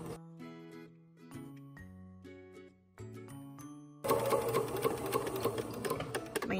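A home sewing machine stitches and then backstitches on a V-neck dolman top, first with soft ticking mechanical rhythms, then a louder, denser whirring run of stitching.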